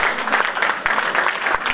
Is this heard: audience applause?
yes